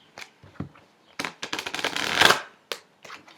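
Tarot cards being shuffled by hand, with bursts of riffling and sliding card noise, one long buzzing riffle in the middle and short taps around it, close up and with no talking.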